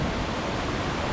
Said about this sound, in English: That's like a double waterfall coming down.